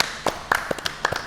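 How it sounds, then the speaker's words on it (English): Audience clapping in a small gathering of car enthusiasts: a handful of sparse, close claps and taps, brief and uneven, with no sustained applause. "Let's clap it up for Captain Grim."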